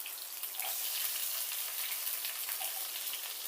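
Small shallots frying in hot oil for a Tamil potato fry, giving a soft, steady, even sizzle with no talking over it.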